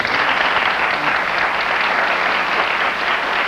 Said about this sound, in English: that's Mike clapping